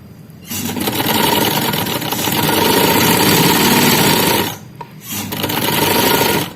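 A sewing machine runs steadily while stitching the side pocket of a kameez, with a loud continuous mechanical drone that stops briefly near the end, then restarts for the final stretch.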